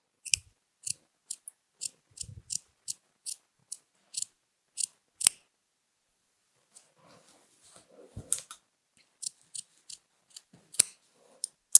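Scissors snip through knitted cardigan fabric along a steek, giving a steady run of crisp, close cuts with short pauses and a few soft handling noises. No one speaks.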